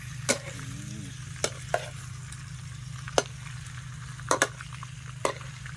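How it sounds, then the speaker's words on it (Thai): A steady sizzling hiss of pork frying in hot oil until crispy, with occasional sharp pops and crackles breaking through. "เตรียมเจียวเลยจ้ะ เจียวให้เป็นแบบเจียวหมูแบบให้กรอบๆนะจ๊ะ"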